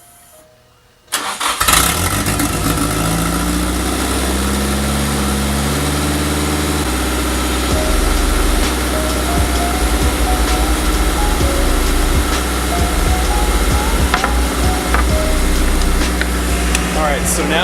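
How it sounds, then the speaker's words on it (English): A Nissan SR20DET engine cranks and fires after a second of quiet, then settles into a steady, loud warm-up idle that runs on without a break, close by. "now it's on its initial warm-up, and it's actually running really good"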